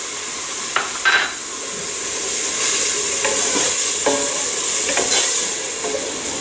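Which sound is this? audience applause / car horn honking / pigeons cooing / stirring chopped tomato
stirring chopped tomato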